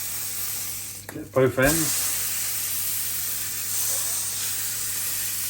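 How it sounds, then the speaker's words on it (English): Roast beef sears in a hot cast iron pan, giving a steady hiss and sizzle throughout, briefly overlapped by a short spoken remark near the start. "I want to sear it, not catch it on fire."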